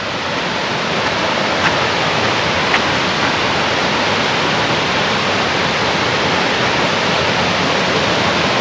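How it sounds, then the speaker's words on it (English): A waterfall beside a countryside walking path, roaring as a loud, steady broadband rush of water that fills the whole clip with no voices. "we're coming up to the waterfall in a little while, so it will get quite noisy as we get closer and closer to it"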